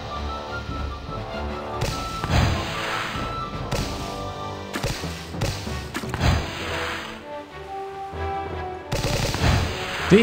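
Pirate ship cannons booming in a sea battle in Monkey Island 3, heavy thuds firing repeatedly at irregular intervals over steady game music.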